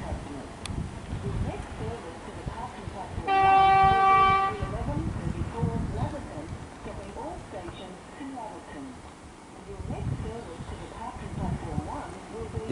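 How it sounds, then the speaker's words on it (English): An Extrapolis suburban train on a Laverton service pulls into Seaholme station in Melbourne, its horn sounding one short steady toot over a continuous rumble of wheels and motors, with a broad roar that swells and eases as it arrives. "Got a train arriving."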